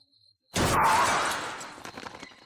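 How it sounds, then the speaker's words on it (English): A Toyota Camry slams into the front gate of a house in Thailand: a sudden loud crash with shattering glass bursts out of near silence, then fades over about two seconds into scattered rattling debris. "Then a sudden crash shatters the calm."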